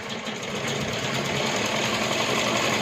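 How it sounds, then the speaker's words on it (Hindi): A sewing machine runs steadily at close range while stitching the pants of a child's jumpsuit sewn from an old shirt, a continuous fast mechanical whir with no talk. "अब हम पैंट की सिलाई करेंगे।"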